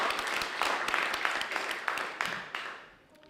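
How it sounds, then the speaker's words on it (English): Audience at a panel event claps in a dense burst that fades out toward the end, loud and close. "Round of applause, please, for David Yoon."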